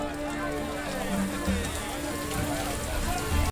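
Rain pattering steadily on a ship's surfaces at sea, a continuous close hiss with scattered drops throughout, and a voice speaks over part of it.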